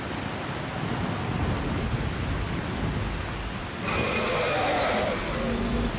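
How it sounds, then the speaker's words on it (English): Steady rain with rolling thunder in the Skyrim video game, a dense constant hiss throughout with low rumbles, heard under a voice. "Out of the rain."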